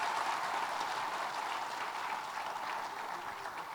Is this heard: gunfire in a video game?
no